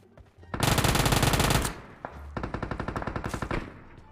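Rapid automatic gunfire crackles loudly in a shooter video game: one dense burst, then a second burst of quick distinct shots.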